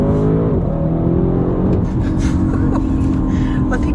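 A steady, loud artificial engine hum with rising harmonic tones fills the cabin of a 2022 Audi RS6 Avant, a synthetic-sounding drone that climbs in pitch, with faint talk underneath.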